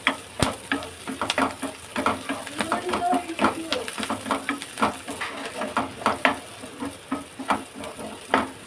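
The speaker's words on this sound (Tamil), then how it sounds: "வெங்காயம் நல்லா வதங்கிடுச்சு" Onions sautéing in a pan for a squid gravy, with a close, soft sizzle broken by repeated scraping and tapping stirs at an uneven rhythm.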